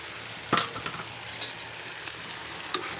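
Cashews and chana dal are stirred with onion in a hot pan, giving a steady soft sizzle and a sharp scrape of the spoon near the start.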